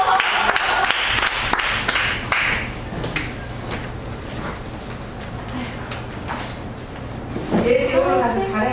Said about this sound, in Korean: 우리 집사님께서 이렇게 박수 한번 쳐요.